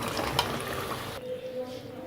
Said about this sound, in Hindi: समोसों के ऊपर लाइट गोल्डन कलर आ चुका है। ये देखिए, ये अच्छे से फ्राई हो चुके हैं।